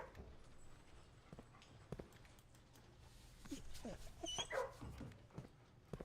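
A dog in a video game being petted, giving soft barks, whimpers and panting sounds over quiet game ambience and footsteps, faint and intermittent.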